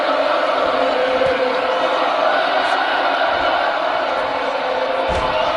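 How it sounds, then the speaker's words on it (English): A dense, steady wall of wrestling crowd noise from fans of three federations at an MVWF event, a sustained roar at constant loudness throughout with faint shouts mixed in. "The crowd now finally starting to rally around Dragonheart"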